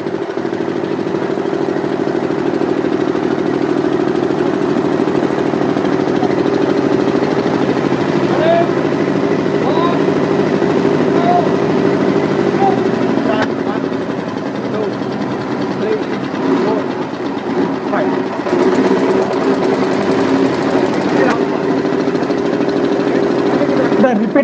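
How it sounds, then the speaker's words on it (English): Diesel engine running at no load in a thermal engineering test lab, a steady droning hum with constant rumble throughout, people talking faintly over it. "This is the same engine on which we performed the performance test."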